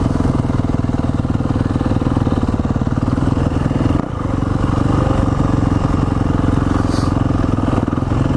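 A Yamaha motorcycle ridden by a young rider at a ride day gets a little more gas, its mid-pitched engine holding a steady, loud, continuous drone with light clatter and only a brief dip partway through.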